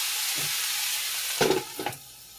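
Potatoes and peppers frying in a skillet, a steady loud sizzle with a broad hiss, broken by two brief scraping stirs near the end, close up with no voices.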